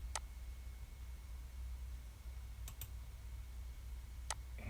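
Faint, sparse computer mouse clicks, about four over a few seconds, sound against a quiet background hum while a geo-fence box is drawn on a map.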